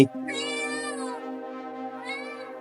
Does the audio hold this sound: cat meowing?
yes